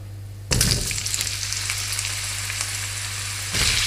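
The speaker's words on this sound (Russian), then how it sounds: "Как видите, у нее умеренное шипение, потому что картошка была обсушена и на ней не было воды." Dried potato pieces tipped into a hot frying pan give a moderate, steady sizzle that bursts in loud and close, holds evenly for about three seconds, then swells again briefly at the end, with a low steady hum beneath.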